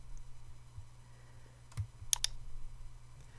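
A few quiet computer clicks, single then a quick pair, sound close against a low electrical hum, with no talking.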